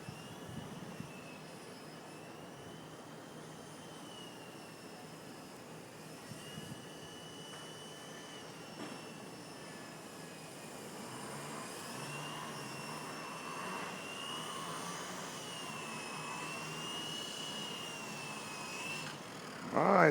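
An Xtreme Productions Solo Pro 328 RC helicopter flies outdoors in strong wind as it comes in to land, its steady electric whine holding a constant level with some wind rumble underneath, ending in a louder burst.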